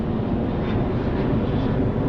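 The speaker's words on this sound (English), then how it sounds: "We can hear the planes taking off from Miami International Airport" Planes taking off from Miami International Airport, heard from a riverwalk in Brickell as a loud, steady broadband roar of jet engines, continuous and without talk.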